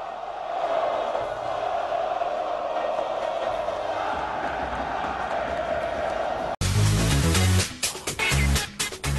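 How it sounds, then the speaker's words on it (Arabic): Al Ahly supporters chanting in an arena after the first half of an Al Ahly versus Zamalek handball Super Cup final, a distant, sustained crowd roar that cuts abruptly into louder, punchy rhythmic music. "ده كان هتاف جماهير النادي الاهلي بعد انتهاء الشوط الاول"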